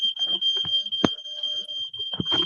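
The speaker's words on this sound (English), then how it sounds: "Fire alarm. Oh, too much smoking." A smoke alarm triggered by cigarette smoke sounds a steady, loud high-pitched electronic tone throughout, with brief knocks and thumps from people moving nearby underneath it.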